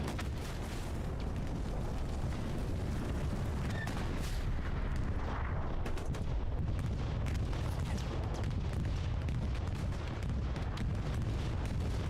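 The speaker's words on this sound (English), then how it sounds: "bomb run coming in" Bomb-run explosions and gunfire during a Hell Let Loose match, a dense, continuous wash of distant booms, rumbling blasts and sharp shot cracks layered throughout, with no clear voices.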